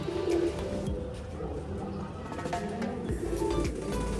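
A khaki pigeon coos close by in soft, low repeated calls, with faint background noise and no speech.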